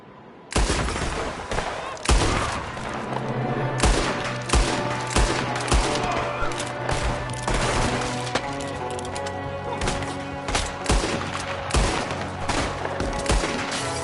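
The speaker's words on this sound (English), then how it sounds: "There's another one shooting from the window." Gunfire from a shooter at a window in Red Dead Redemption 2, a loud dense fusillade of repeated shots running steadily throughout.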